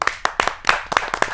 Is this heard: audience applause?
yes